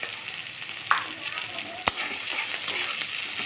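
Ginger, garlic and slit green chillies stir-fry in a pan with salt, a continuous close sizzle with a few sharp clinks and scrapes of stirring.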